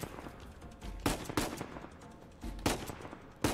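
Sniper rifle shots in Uncharted 4 crack out sharply in close pairs, a short rhythmic volley that repeats after a pause, loud against a quiet background with no talking.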